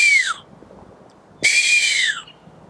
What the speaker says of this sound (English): Did you hear that bird?